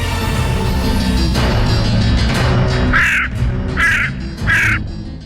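A crow caws three times in a loud, evenly spaced series of harsh calls near the end, over a steady background rumble and other faint bird sounds.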